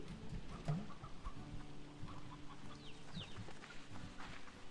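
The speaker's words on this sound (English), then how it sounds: "There's so many roosters." Roosters and hens in a video game cluck and call faintly over a soft rainy background hiss, with scattered short fowl sounds and no talking.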